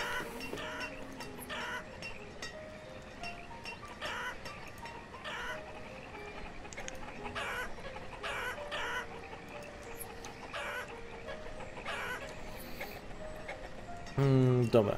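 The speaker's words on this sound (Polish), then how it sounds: "Kurczaki tutaj się kurczakują, kurczakują" Chickens cluck steadily in the medieval town-building game Banished, a layered loop of fowl calls under someone speaking throughout, with a brief louder burst near the end.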